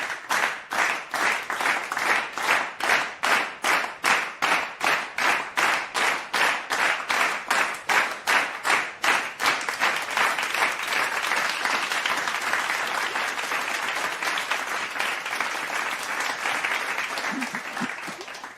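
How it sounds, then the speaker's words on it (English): An audience at a Christmas Eve party applauds, starting with loud, rhythmic unison clapping for about nine seconds before breaking into sustained, dense scattered applause that carries on to the end. "Can everyone please give a huge round of applause to the one, only"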